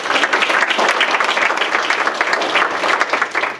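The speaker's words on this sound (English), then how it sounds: "Let's give a round of applause to Nicole." Dense, sustained applause from an audience at a songwriting and story circle workshop, a steady wash of many hands clapping close by, holding at full level throughout without talk.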